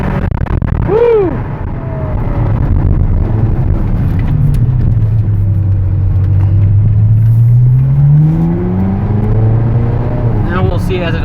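A 2010 Ferrari California engine revs on a test drive, its pitch sweeping down and then climbing again in a loud, sustained drone heard from inside the car, with voices over it.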